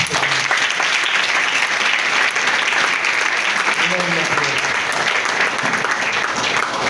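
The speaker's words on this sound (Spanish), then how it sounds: "Bríndale un fuerte aplauso" A church congregation breaks into strong applause, a dense, continuous burst of clapping that stays loud throughout, with faint voices and cheers mixed underneath.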